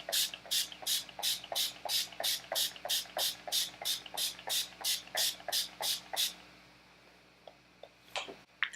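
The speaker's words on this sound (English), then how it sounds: "So now I'm just going to take my Urban Decay All Nighter Setting Spray to set my face." Urban Decay All Nighter setting spray mists onto a face in about fifteen quick, evenly spaced pumps, each a sharp close hiss, followed by a few faint rustles and a short final spritz.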